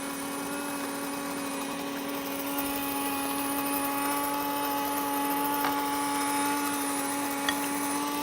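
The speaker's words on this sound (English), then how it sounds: "I wanted to mill this in front of you so you would see the difference in that hard wheat and soft wheat." An electric grain mill grinds hard and soft wheat, a continuous loud whirring roar with a strong steady whine, close by and uninterrupted throughout.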